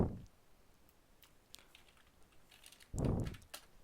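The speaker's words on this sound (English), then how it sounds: "So just keep typing aim and get all the new recoil aim ones." Sparse taps on a computer keyboard while building recoil settings for an Unreal Engine 4 first-person shooter, a few quiet isolated keystrokes followed by a short louder burst of typing near the end.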